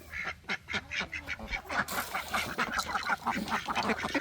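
Many ducks quack in a dense, rapid series of nasal calls, close by and steady throughout, with a brief burst of louder hiss partway through.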